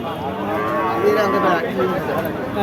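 A cow moos at a busy cattle market where dairy cows and calves are being traded, giving one drawn-out, fairly close low call over faint background murmur.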